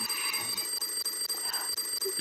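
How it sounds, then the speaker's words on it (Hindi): An alarm clock rings in a bedroom, a steady repeating electronic beeping that continues through the whole moment at moderate loudness, with no talk over it. "उठो, अलार्म बज रहा है।"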